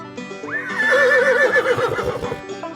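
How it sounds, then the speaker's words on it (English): A horse neighs once in a farm-animal naming quiz, a loud, shrill whinny that rises and then trembles downward for about two seconds, standing alone with only a faint music bed beneath it. "Horse."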